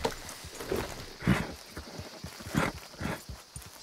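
Horse hooves clip-clop at a walking pace while riding in Red Dead Redemption 2, fairly quiet, uneven thuds spaced about every second, with no talking over them.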